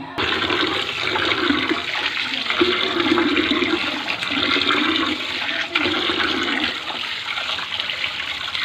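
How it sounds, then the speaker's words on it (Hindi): Water pours steadily from a tap and splashes as goat's liver is rinsed and turned under the stream, continuous for several seconds. "अब इसको मैं अच्छा और खुले पानी से इसको मैं धो लूँगी"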